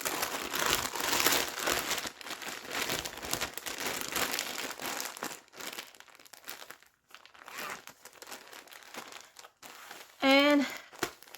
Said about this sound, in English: Slide it into a Ziploc bag.